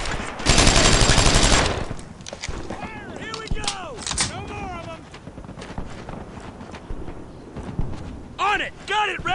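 Gunfire in the World War II shooter Brothers in Arms: Earned in Blood: a heavy burst of close automatic fire, then scattered shots under loud shouted orders from soldiers.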